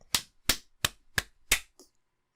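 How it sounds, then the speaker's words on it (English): A head banging on a table, five evenly spaced heavy thumps followed by a softer sixth knock, close and loud with quiet gaps between them. "which is me banging my head on the table"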